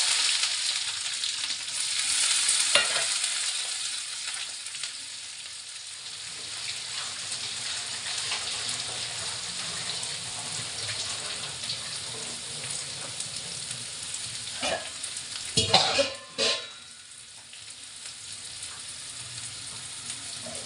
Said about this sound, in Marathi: मोहरी टाकून घेऊ आपण जिरे टाकू कांदा